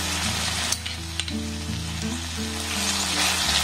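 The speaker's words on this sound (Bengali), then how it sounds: "সেটাকে আমি একটু ভালোভাবে এবার নাড়াচাড়া করে নেব" Chili paneer with chili and tomato sauce sizzles loudly in a hot pan and is stirred with a few sharp scrapes and clinks. Under the frying hiss there is a steady low hum.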